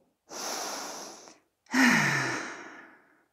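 Two long, deep breaths taken during a guided breathing exercise, a slow airy inhale followed by a fuller, louder exhale that fades out, close and with no speech.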